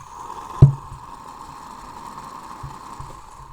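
A computer mouse wheel set to free-spinning infinite scroll gives one sharp knock, then a faint, smooth, steady whir as it keeps spinning on its own, heard up close.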